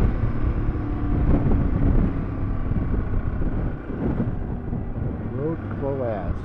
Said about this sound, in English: So tired of the wind.